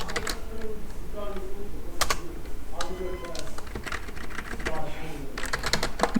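Someone types JavaScript code on a computer keyboard, with a rapid, uneven run of close key clicks throughout under continuous talking.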